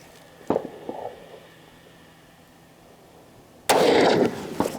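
A CZ X39 rifle firing Golden Tiger 124-grain ammunition at a 75-yard range: a few sharp, fairly faint reports with quiet gaps between them, then one longer, louder blast.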